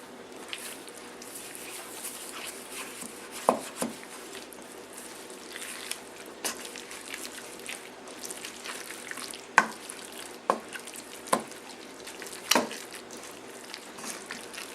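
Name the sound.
mixing tuna salad ingredients together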